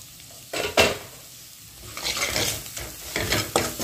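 Masala roasting in hot oil in a pan for a drumstick curry, with steady sizzling and several scraping stirs and clinks of a spoon against the pan, close and fairly loud.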